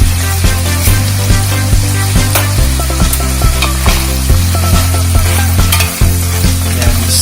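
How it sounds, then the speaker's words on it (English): Seasoned food frying in a pan while being stirred, a loud steady sizzle under repeated rhythmic scrapes and knocks of the utensil, close up, with no speech. "Stirring it up."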